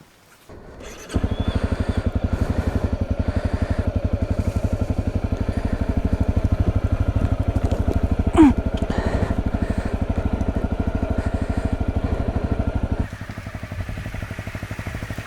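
A Honda CRF250Rally motorcycle engine drones steadily and loudly at close range while riding a rough Croatian gravel track, with a brief clatter in the middle and a lower, slightly quieter note near the end.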